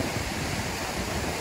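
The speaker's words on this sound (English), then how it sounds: "This is the top of the waterfall." Mowbray Falls rushing at its top, a steady broadband roar of falling water that stays even and loud throughout, with some wind buffeting mixed in.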